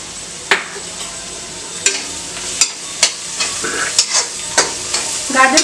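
Carrots and onion sautéing in a pan with salt, stirred with repeated sharp scrapes of a spoon against the pan over a steady close sizzle, with no talking.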